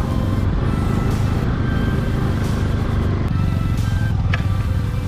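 Bullet motorcycles on an offroad enduro ride on a dusty trail produce a loud, steady engine drone with wind buffeting, recorded close up and without speech.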